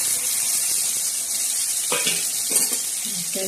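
Ground masala sizzles steadily in hot oil with toasted cumin, with a few louder scraping stirs breaking in toward the end.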